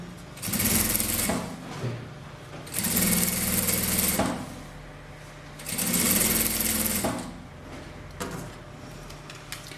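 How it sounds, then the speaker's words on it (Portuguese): A sewing machine stitches bias binding onto a rug in three steady runs of motor whirr and needle clatter, each a couple of seconds long, with quiet pauses between them. "Coloco o viés aqui do lado da base, faço a costura."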